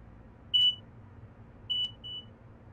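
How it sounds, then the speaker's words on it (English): Two short, high electronic beeps of the ATC alarm in the Long Island Rail Road route of the video game Train Sim World, the second followed by a longer tone, sounding alone over a quiet low hum. "I'll still get the ATC alarms here and there, but that's fine."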